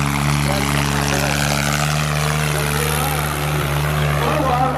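A homemade RC Swaraj 855 model tractor running, its small motor giving a steady loud droning whine with a constant pitch, close by and continuous throughout.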